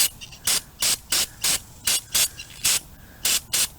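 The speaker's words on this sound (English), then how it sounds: "Just a rough spray" Short bursts of cleaner sprayed onto a carburetor, roughly nine quick hissing puffs in an even rhythm, close and fairly loud with brief quiet gaps between them.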